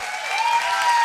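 A short burst of audience clapping at a live California governor candidate showdown, steady and moderately loud throughout.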